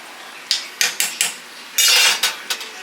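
A metal utensil scoops pot roast with potatoes, carrots and bay leaf out of a Dutch oven. It makes about half a dozen sharp clinks and scrapes against the pot in an uneven rhythm, close and clear, with no talking.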